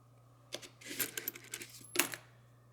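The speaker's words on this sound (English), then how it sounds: "Guess we could put the dollar silver coins there as well" Silver dollar coins drop and clink onto a pile, a quick cluster of metallic jingles followed by one sharper ring, close and fairly quiet.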